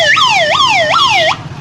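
A man mimics an emergency vehicle siren with his voice, producing three loud, clean rising-and-falling wails in quick succession before cutting off.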